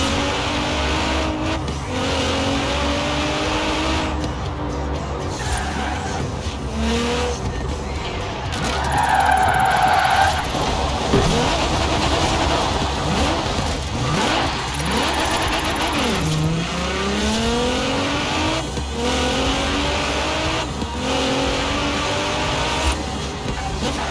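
Car drifting with traction control off in Forza Horizon 4, engine revving and tires squealing in long sliding bursts, loud and continuous with rising and falling pitch and some speech underneath.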